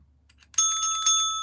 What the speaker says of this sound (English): make sure that you hit the little bell